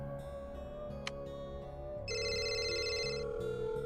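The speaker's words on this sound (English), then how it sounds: "I simultaneously hear the ringing tone on Miji's phone and Monica's phone as well." A phone ringtone in a visual novel game mod, an electronic ring repeating over soft background music and turning brighter and louder halfway through, with no voices.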